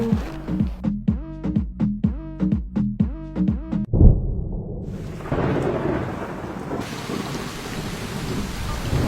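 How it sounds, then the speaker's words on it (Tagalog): Heavy rain with thunder pounds down around a high school: a quick run of rhythmic pulses gives way to a sharp, loud thunder crack, then a dense, continuous roar of downpour that grows heavier toward the end. "Lakas ng ulan!"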